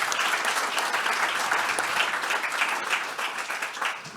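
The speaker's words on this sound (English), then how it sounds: "If we can give a round of applause to the panellists." A conference audience at a cybersecurity event applauds its panellists, with steady, dense clapping that holds for several seconds before easing slightly.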